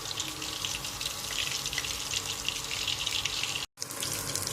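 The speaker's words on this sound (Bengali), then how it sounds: "হাই টু লো ফ্লেমে মাছগুলোকে এইভাবে একটু টপিক করে ভাজা করে নেবেন" Lotte fish frying in a pan, a bright continuous hissing sizzle like rushing water, steady and close, broken by a brief cut near the end before resuming.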